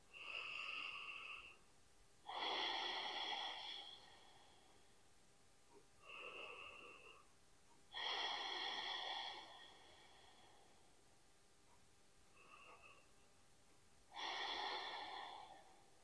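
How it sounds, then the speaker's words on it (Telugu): Slow, deep breaths close to the mic, each long loud inhale followed by a softer exhale, repeating steadily with no talking. "ఒక 2-3 బ్రెత్తులు తీసుకోండి, దీర్ఘ శ్వాసలు"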